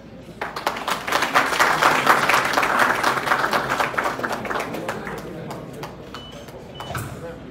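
An audience at a ceremony claps, swelling to a dense, loud burst of many hands before thinning out to scattered claps, with some voices heard through it.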